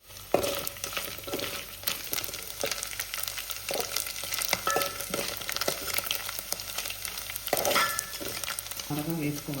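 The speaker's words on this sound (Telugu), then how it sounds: "త్వరగా వేసుకోవాలండి మెత్తలు, మాడకుండా దోరగా వేసుకోవాలి" Methallu, soft lentil dumplings, frying in hot oil in a pan with steady crackling sizzle throughout and occasional clicks of a utensil against the pan.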